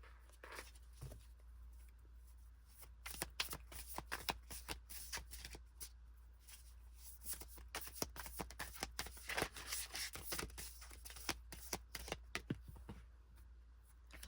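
Tarot cards shuffled by hand in rapid bursts of riffling and flicking, close and crisp, continuing with brief pauses over a quiet room.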